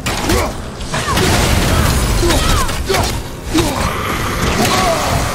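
Enemies exploding in God of War combat, a dense, loud stretch of bursts, crunches and mechanical clatter over a constant rumble, with repeated impacts and no clear pauses.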